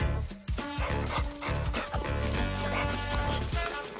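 A dog barks in short, sharp yips mixed with whimpering whines, close and busy over a cluttered comedy-film soundtrack.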